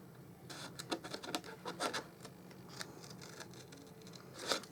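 Scissors snip through paper while a crafter trims strips for a Stampin' Up gift bag, a quiet series of close, irregular cuts with small rustles between them.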